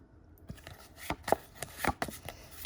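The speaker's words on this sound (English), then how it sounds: "Now I'm going to shuffle" Tarot cards shuffled by hand, giving quiet, irregular crisp snaps and riffling taps spread across a few seconds, with no talking.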